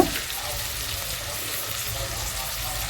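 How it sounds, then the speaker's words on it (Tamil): Onions saute in a pan for Chettinad chicken chukka, giving off a steady, moderately loud sizzle with faint stirring and no clear speech. "வெங்காயம் போட்டு நல்லா வந்து நல்லா கோல்டன் ப்ரௌன் கலர் வர அளவுக்கு கொஞ்சம் வதக்கிக்கோங்க"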